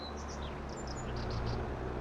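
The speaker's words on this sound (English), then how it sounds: "let's get ready for the bird song" Birds chirp and tweet in the countryside of Farming Simulator 22, a string of short high calls repeating over a soft, steady ambient bed, moderately distant and gentle, with no talking.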